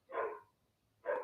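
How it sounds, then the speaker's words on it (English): A dog gives two loud, close barks about a second apart, each a short broad burst, with quiet between them and no talking. "Pardon my dog."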